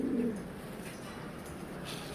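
Soft, low pigeon cooing at the start, then a quiet hum of background noise.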